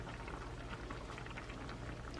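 Ramen noodles boil in a pot on the stove, a steady dense bubbling and rolling simmer that stays even and close throughout with no talk.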